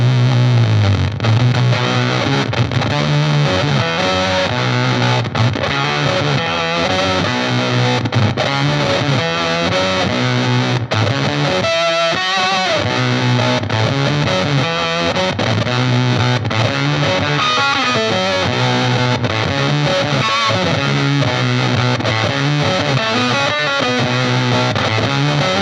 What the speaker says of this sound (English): let's hear that sub-octave though